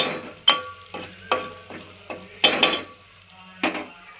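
Onions frying with salt in a pan while cooking goat brain curry, a soft steady sizzle broken by several sharp clinks and scrapes of a spoon stirring against the pan, with no talking.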